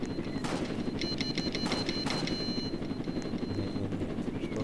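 A helicopter in the Roblox game Jailbreak: steady rotor-like chopping thrum with a continuous low engine drone and some sharp rapid bursts on top, busy and constant throughout.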